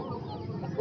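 An Aseel rooster clucks softly at a bird market in Tando Adam, a brief low burst of fowl sounds lasting under a second amid the noisy market bustle.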